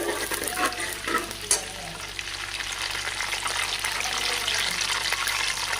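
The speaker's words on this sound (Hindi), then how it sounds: "ये मसाला डालेंगे, हल्का से इसे रोस्ट करेंगे।" Whole cloves, cumin seeds and cinnamon pieces dry-roasting in a pan for kofta biryani give a steady broadband sizzle and crackle, with a few louder clinks of stirring near the start, close and continuous with no talk.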